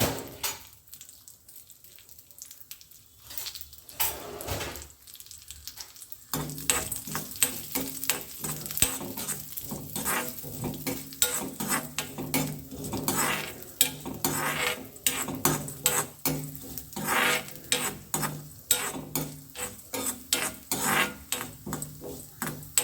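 Urad dal and cumin seeds roasting in a hot pan for temple-style chutney, a quiet start giving way to a steady dry sizzle with repeated close scraping and stirring against the pan.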